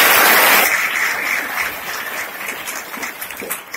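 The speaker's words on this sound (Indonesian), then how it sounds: "Tepuk tangan buat kita semua." Applause from an audience at a motivational gathering in an Islamic Quran-memorization boarding school, loud clapping at the start that gradually tapers off over a few seconds.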